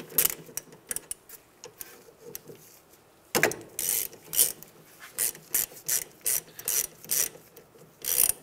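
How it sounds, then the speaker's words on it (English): Ratchet wrench backing out 14 mm brake caliper bolts on a 2003-2011 Honda Element, with faint clicking at first and then louder, close rapid ratcheting bursts in a steady back-and-forth rhythm; no voices. "To take off our caliper, it's going to be two 14 millimeter bolts."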